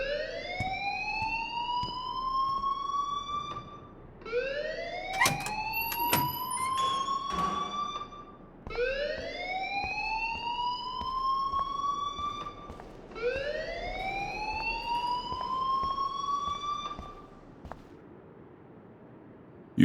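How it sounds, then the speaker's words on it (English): A fire alarm rings inside a school building in the video game Life is Strange, sounding as four long rising electronic wails in a steady repeating cycle, loud and close, with no voices over it. "please turn off that alarm since that's your job."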